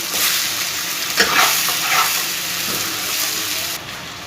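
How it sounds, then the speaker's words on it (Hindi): Loud, continuous sizzling and frying of chicken with onions in a pan, with occasional stirring scrapes, close and steady without any talking. "चिकन को मैं जब तक इसका कलर चेंज ना हो जाए मैं इसे भूनूंगी इसी में।"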